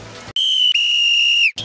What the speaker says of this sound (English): safety danger whistle. If you are in danger, you can whistle when you're trekking, when you're hiking.